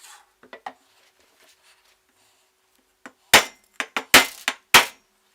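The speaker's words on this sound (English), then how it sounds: "we just press our other bearing in" A bottom bracket bearing is pressed into a BMX frame, giving a few faint clicks at first, then a cluster of loud, sharp knocks and clanks of metal on metal spaced irregularly over the last two seconds.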